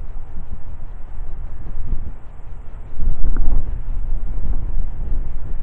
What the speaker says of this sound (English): Got a little wind today